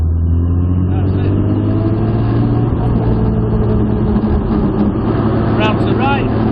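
A modified Jaguar E-type engine droning steadily under light throttle, loud and close and constant throughout, with a voice briefly talking over it.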